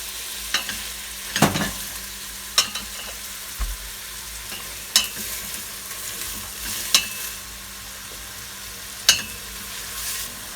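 Vegetables including celery sauté in a hot pan over high flame, a soft steady sizzle broken by occasional scraping stirs and clinks of the utensil.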